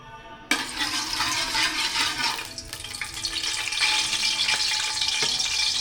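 A pan sizzles and fries steadily as ingredients are sautéed for a mussel dish, starting abruptly with a loud hiss and continuing with stirring scrapes, close by and without talk.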